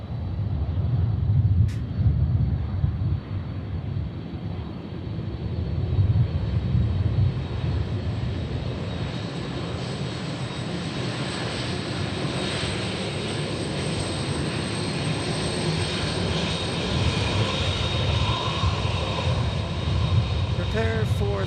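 An airplane takes off at Memphis International Airport, a loud, steady engine roar that holds for the whole stretch with a broad low rumble and a faint high whine, while a voice speaks at times beneath it.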